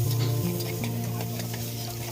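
Garlic, ginger and green chili paste fries in a small amount of oil while being stirred, a steady low sizzle with scraping clicks from the spatula and a faint tonal hum behind.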